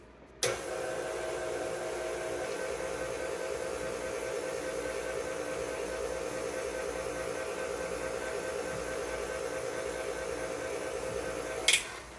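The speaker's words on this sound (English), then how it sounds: "I'm just gonna mix it up with the mixer on about level 2 speed" An electric mixer beats egg white bun batter at low speed, a steady unbroken motor whir that starts abruptly and runs at constant loudness for about eleven seconds, close by and alone, with a brief clatter near the end.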